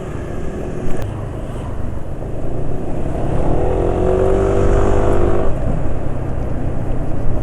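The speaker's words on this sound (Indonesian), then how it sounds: "penulis kok rasanya dengar suara klitikane noken as ya, pelatuk." An engine running steadily with a rising rev midway, carrying a faint rapid ticking of the camshaft tappets under the motor's hum.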